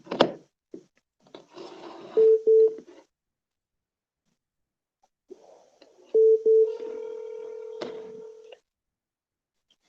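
Telephone keypad dialing tones during a phone call: two bursts of DTMF beeps, the second followed by a long steady tone, with rustling and handling noise between them and quiet gaps.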